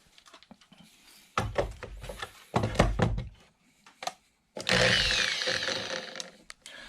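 Power drill driving a screw into a car frame during a side splitter install on an S2000, in short whirring bursts between knocks and handling noises, ending in a longer sustained drill run.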